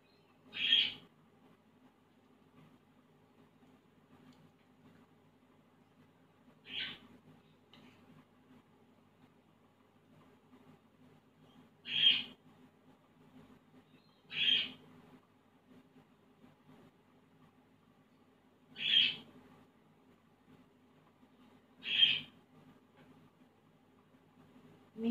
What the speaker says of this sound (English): if you can hear squawking in the background, it's because it's morning here and my birds have woken up